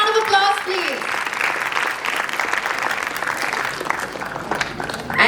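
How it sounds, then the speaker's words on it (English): Audience applause welcoming a panelist at a symposium, steady crowd clapping filling the room for several seconds, with a brief voice at the start. "A big round of applause, please."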